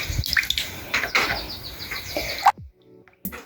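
Water sloshing and splashing in a foot basin as it is emptied and changed, close wet splashes and drips that stop abruptly near the end before a final brief splash.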